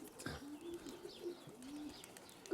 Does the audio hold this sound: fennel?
no